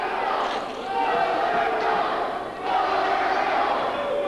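A packed indoor crowd at an independent pro wrestling show roars and cheers loudly and continuously, the din swelling and dipping slightly while a commentator's voice runs underneath.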